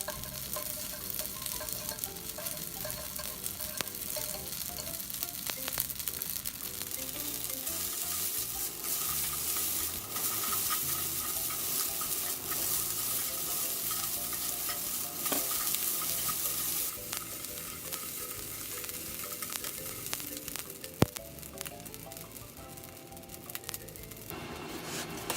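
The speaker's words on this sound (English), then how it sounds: "Warm the pan over medium heat and fry for about 5 minutes while loosening the" Yakisoba noodles fry in a pan over medium heat with a continuous close sizzle, broken by scraping and stirring clatters as the noodles are loosened; no one speaks.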